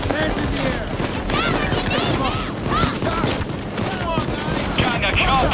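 Explosions during an FBI building raid in Payday 2: constant booms and rapid gunfire crackle through a loud, chaotic firefight, with people talking over the din.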